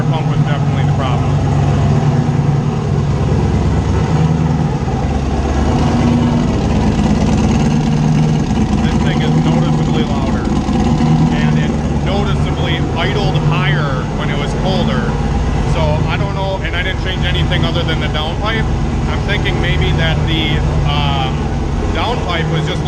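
A Ford Mustang engine with a new, larger downpipe idles steadily for over twenty seconds, a constant low rumble running beneath continuous talking.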